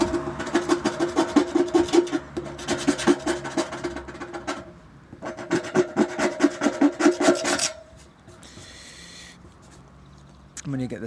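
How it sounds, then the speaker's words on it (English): Sandpaper rubbed by hand over a shield to blend in battle damage, a rhythmic rasping scrape in two long bursts of quick strokes, close up, with a voice talking throughout. "When you get the sandpaper and blend that in"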